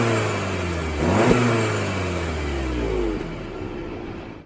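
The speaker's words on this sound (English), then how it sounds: "4 exhaust tips, which sound good" A 2019 Volkswagen Golf R engine revs up with a deep roar through four exhaust tips, climbing in pitch, then settles back down as the throttle eases, close and loud.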